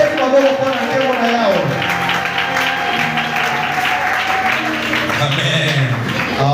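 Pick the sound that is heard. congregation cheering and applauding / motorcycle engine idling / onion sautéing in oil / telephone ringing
congregation cheering and applauding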